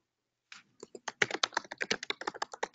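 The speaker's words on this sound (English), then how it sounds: "I guess he's typing." A computer keyboard is heard after a brief silence, with a quick irregular run of close, crisp key taps that grows denser as the typing goes on.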